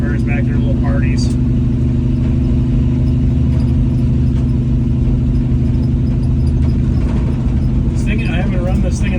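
An old truck engine, unused for about a year, runs loud and close with a continuous mid-range drone, while voices chatter faintly over it.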